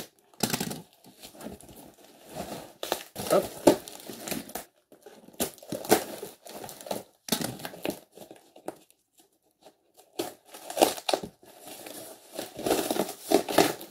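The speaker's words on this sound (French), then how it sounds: "aujourd'hui je peux déballer un colis comme ça" Packaging on a parcel crinkles and tears in repeated bursts with brief pauses between them, close and fairly loud, and no one speaks over it.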